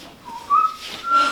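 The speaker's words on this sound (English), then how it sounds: "Then do stop that whistling." A person whistles a short, wavering tune of a few notes, close and fairly soft, during a stage play performance.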